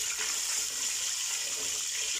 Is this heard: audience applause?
no